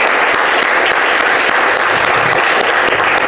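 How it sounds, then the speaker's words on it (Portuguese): A church congregation gives loud, dense applause during a communion worship service, a steady, unbroken roar of clapping from many people filling the whole stretch. "E para o nosso querido amado Senhor Jesus, uma linda salva de palmas."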